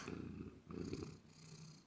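A Minecraft cat purrs softly in short rhythmic bursts, two clear low purring phrases followed by a quieter tail, faint and close with no speech over it.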